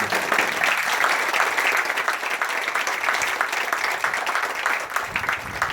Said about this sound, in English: please, if you could help me thank them by giving them a round of applause for doing so.